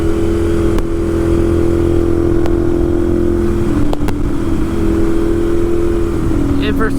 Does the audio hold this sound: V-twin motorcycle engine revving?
yes